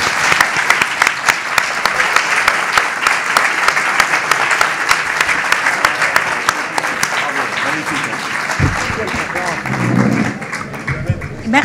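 An audience at a psychoanalysis conference applauds continuously and loudly for the translator, a dense steady wash of many hands clapping, with voices rising over it near the end.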